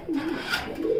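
Fancy pigeons at a breeding farm give a close, soft, throaty coo. Two rolling calls are heard back to back in a quiet room.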